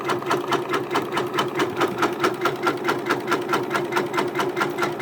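A home sewing machine quilting in the hoop with Tex70 bonded nylon thread, running a fast, even mechanical stitching rhythm with a steady motor hum, close and continuous.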